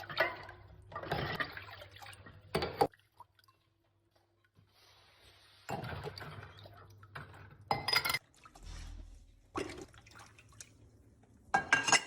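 Water runs in several short gushes separated by quiet gaps while used coffee grounds are rinsed out, close and fairly soft, with splashing and dripping between bursts.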